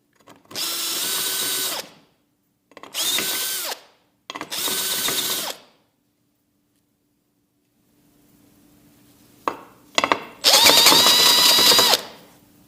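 Three close whirring runs of a power drill deburring drilled holes in a metal plate, then a quiet gap, two quick blips and one longer loud run, all without speech.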